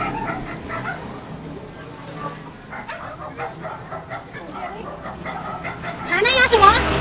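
A dog whimpers and gives small yips throughout, ending in a louder burst of high yelping, while people talk in the background.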